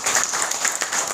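A short burst of clapping rises from the audience at a political talk concert in Pyeongtaek, a brief dense patter of many hands.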